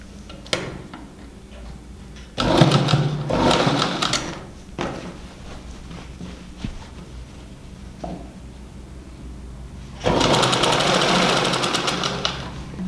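A sewing machine stitching a baby frock runs in two loud bursts, one brief and one longer near the end, with quieter ticking and fabric handling between.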